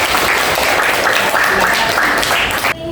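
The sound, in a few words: applause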